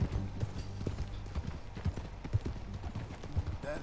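Horse hooves clip-clop in a steady trotting rhythm while riding in Red Dead Redemption 2, with the even, repeated hoofbeats clear and close amid faint ambient game sound.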